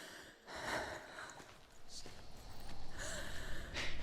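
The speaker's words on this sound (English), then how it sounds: "Listen to your own breath." Senua breathing in Hellblade, soft audible breaths with gasps and sniffs rising and falling over about four seconds against a dark ambient game soundscape.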